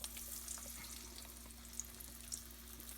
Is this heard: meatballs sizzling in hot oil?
yes